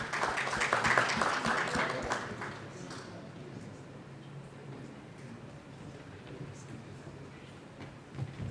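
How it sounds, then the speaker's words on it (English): Audience at an African pension supervisors conference applauding, a burst of clapping that fades after a few seconds into a low room hum. "A big round of applause to Dr."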